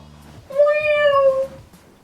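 A cat gives one clear, close meow of about a second, rising and then falling in pitch, with faint background noise before and after.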